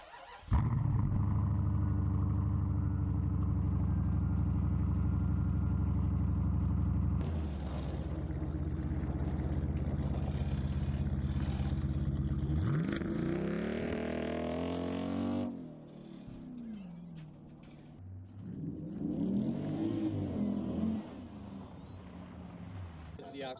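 A modified SUV with an axle-back exhaust revs hard, its loud, rough engine note swelling and falling in several surges, close by, with people talking over it.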